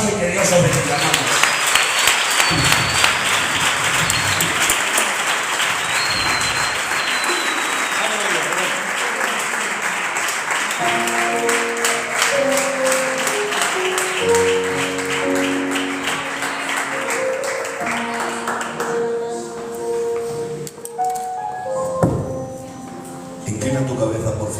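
A church congregation breaks into sustained applause after a sermon. The clapping is dense and loud, then thins as talk and musical tones come in during the later part.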